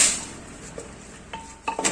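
A metal utensil scrapes and clinks against a pot a few times while mixing chicken curry, soft stirring sounds with brief ringing taps toward the end.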